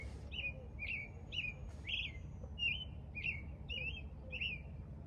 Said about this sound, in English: That's a robin you're hearing.